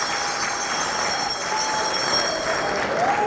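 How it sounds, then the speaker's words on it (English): An audience of political appointees applauds at a governor's address, a steady wash of many hands clapping that holds at an even level throughout, with faint voices mixed in. "Clap for yourselves"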